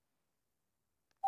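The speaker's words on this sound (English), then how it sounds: "I'm going to go call her on the home phone" A single short touch-tone beep from a home telephone keypad sounds once, clear and close, after a second of near silence.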